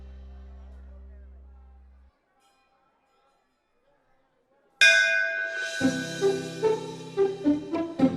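After a low hum and a silent pause, a temple bell rings loudly and repeatedly, its metallic strikes overlapping in a bright, uneven clanging rhythm.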